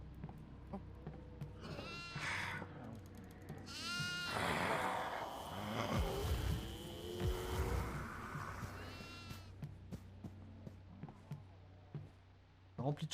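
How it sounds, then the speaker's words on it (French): Goats in a video game bleat in several wavering calls, some near and loud, others farther off, overlapping at times, while players talk over them. "Rempli de chèvres."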